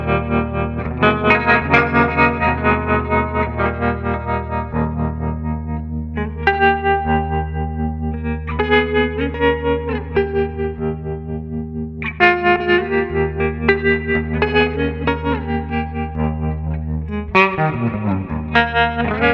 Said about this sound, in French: J'essaie ensuite un trémolo et une reverb hall.